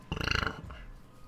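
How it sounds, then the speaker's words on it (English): A single loud, close burp rumbles for about half a second with a rough, pulsing texture, then fades into quiet. "Excuse my burp."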